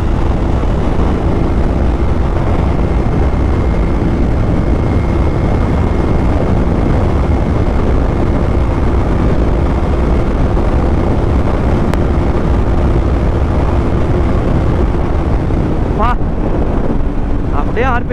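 A KTM Duke 200 motorcycle runs flat out near its top speed, its engine a loud constant drone almost buried under heavy wind roar on the microphone, holding steady for the whole stretch.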